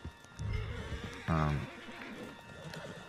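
A horse in Red Dead Redemption 2 gives a loud, close whinny lasting about a second, with hoof sounds and background game noise around it, and someone talks before and after it.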